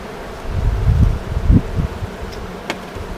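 A low, steady buzzing of a honeybee swarm hums close by during hive transfer, swelling and fading with a few sharper rustles and clicks.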